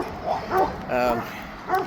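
A dog on a city street gives a few short greeting barks and yips close by, rising and falling in quick bursts while people speak nearby.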